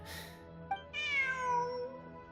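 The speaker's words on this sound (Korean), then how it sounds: "저기 봐. 고양이야." A cat in Genshin Impact gives a single clear meow that rises and then slides down, heard close and alone after a short soft rustle, with no talking.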